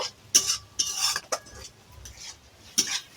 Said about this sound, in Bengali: মশলা থেকে তেল ছাড়া পর্যন্ত আমি এইভাবে একটু নাড়ব